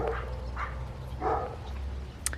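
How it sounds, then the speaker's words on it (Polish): A dog gives several short, muffled barks or yips at irregular intervals, with a low steady hum underneath. "Pies tu koło mnie czeka chyba na swoją kolej na spacer."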